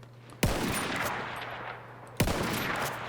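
Gunfire in the video game Battlefield 1: two loud, sharp shots about two seconds apart, each followed by a long echoing tail over a steady background hum.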